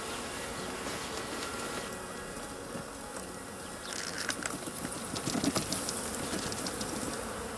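Honey bees from a colony being poured into a small nucleus box with a few frames, a steady close swarm-like buzz that swells louder in the second half, with faint tapping and knocking.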